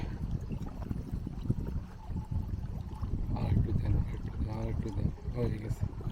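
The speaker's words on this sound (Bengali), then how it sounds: "আমি ঢেলে দিই আপনাকে" A drink is poured for someone outdoors by a Canadian lake, with a trickling, gurgling stream of liquid at close range. Voices talk over the latter part.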